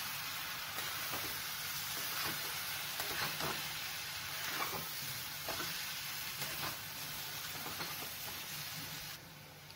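A besan mixture fries in oil in a pan with a continuous crackling sizzle, and a spoon drags through it gently in a regular stirring rhythm, close and steady with no talk.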